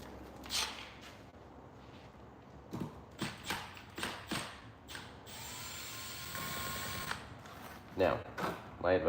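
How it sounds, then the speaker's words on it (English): Bolts being loosened on a Subaru wagon's large plate with a ratchet and power tool: repeated short clicking and whirring bursts, up close, with a longer whine in the middle and talk throughout. "we'll get all those bolts loosened up"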